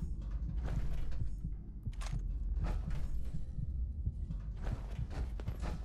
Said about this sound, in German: Jetzt höre ich schon irgendwie Herzklopfen.